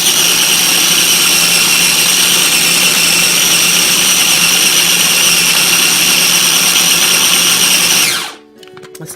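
Blender grinding pesto with olive oil and salt, a loud, steady high-pitched whir running continuously for several seconds before cutting off abruptly near the end.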